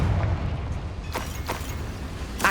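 A Confringo blasting spell goes off in the Hogwarts Legacy video game with a loud, deep boom, followed by a few fainter bursts.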